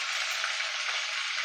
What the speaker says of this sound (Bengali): এবার ফোড়নটা একটুখানি ভাজা ভাজা করে নেব।